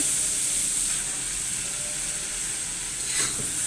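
Tomato paste and spices fry in a pan for a chicken liver kaleji masala, sending up a constant near sizzle with a brief stirring scrape near the end, and no one speaks.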